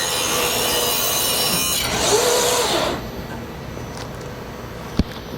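An XLs125 fabric spreader runs its cutoff, a loud mechanical whirring slice across material that sweeps for about a second, then the machine quiets and a single sharp click follows.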